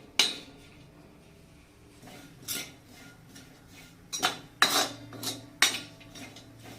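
Dry fruits are stirred and roasted in a pan, a metal spoon scraping and clinking against the pan in several sharp, irregular strikes with quiet pauses between them.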